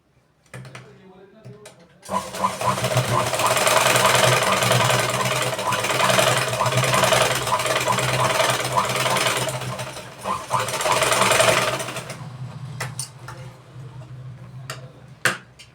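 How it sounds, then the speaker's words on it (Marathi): A sewing machine runs steadily for about ten seconds, stitching a pressing seam on a katori blouse, loud and close with a fast mechanical chatter; someone talks briefly before and after the stitching. "आता इथं आपण एक दाब शिलाई टाकून घेणार"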